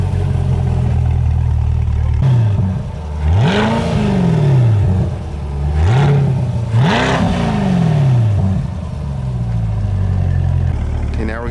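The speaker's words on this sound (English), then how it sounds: "we're gonna do the cold start on Mark's C8 Z51 NPP exhaust." A Chevrolet C8 Corvette Z51 with NPP exhaust cold-starts, firing up with a loud bark and several revving blips that rise and fall before settling into a steady, close, throaty idle.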